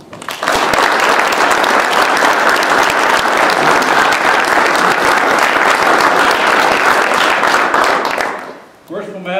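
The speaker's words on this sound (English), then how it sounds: "please salute your officers with a hearty round of applause" Brethren and guests give a hearty round of applause for newly installed Masonic lodge officers, loud continuous clapping from a crowd that fades out near the end before a voice begins.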